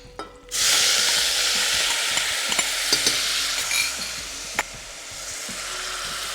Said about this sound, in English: I'll add that as it sizzles, as it does